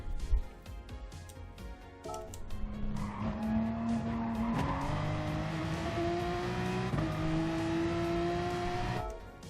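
A Porsche Gr3 race car in Gran Turismo accelerates out of a corner at Autodromo Nazionale. Its engine note climbs steadily through several upshifts, and tires squeal briefly at the start.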